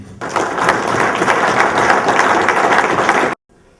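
A church congregation applauds its priests, a dense, steady wash of many hands clapping at close range that continues for over three seconds and then stops abruptly.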